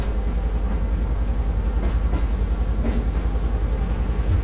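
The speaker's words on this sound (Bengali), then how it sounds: "বৃষ্টির ফোঁটাগুলো ভেদ করে ট্রেন তার নিজস্ব গতিতে সামনে এগিয়ে যেতে লাগলো" A train rolls along its rails in the rain, a steady, dense rumble with a faint rhythmic clatter that stays even and close throughout, with no voices.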